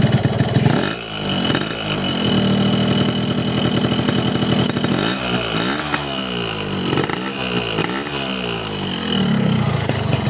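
Two-stroke motorcycle engine running on Ninja Racing Oil 2T mixed with Pertalite fuel, revving close and loud in repeated rising and falling bursts with a raspy, buzzing tone.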